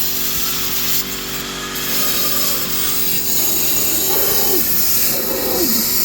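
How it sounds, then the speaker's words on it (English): An air compressor set at 10 bar blows air back through the blocked DPF of a 2017 Ford Galaxy 2.0 TDI, giving a loud, steady rushing hiss that runs unbroken through the whole stretch. "Now we've set that, obviously here's just an air compressor."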